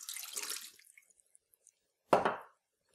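Water from a tap runs briefly into a Moulinex Cuisine Companion bowl, a soft splash first, then a short louder gush of poured water, close and quiet, with no talk.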